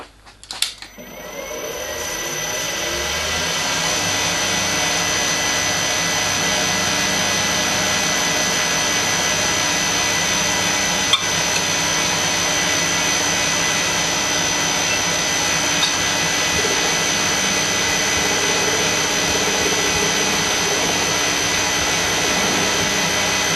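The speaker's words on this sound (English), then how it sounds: "I can now put this in the mill, protected by masking tape, and produce an 8mm by 14mm slot using a plunge router." A milling machine fitted with a plunge router cuts an 8mm by 14mm slot in wood protected by masking tape, a loud, steady high-pitched whine that starts up and runs continuously without talk.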